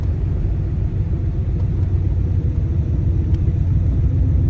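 Turbocharged Fox-body Mustang launching hard at a drag strip, a loud, dense low rumble that holds steady for a few seconds with no voices.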